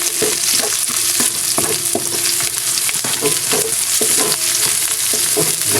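Garlic browned in a pan, then onion, sautéing in oil, a dense, loud, continuous sizzle with frequent rhythmic scraping and clicking from stirring, with no voices.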